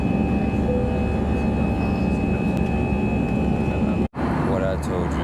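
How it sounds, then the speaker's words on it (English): Passenger airplane cabin just after takeoff fills the clip with a loud, steady engine drone and broadband rumble, with a short dropout near the end. "when this plane goes up on the air"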